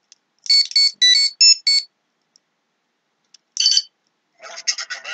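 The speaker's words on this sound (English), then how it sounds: "Communicator malfunction noise." A Mighty Morphin Power Rangers toy communicator beeps in short bursts, a rapid chirping sequence, a pause, then a garbled warbling tone like a malfunctioning communicator.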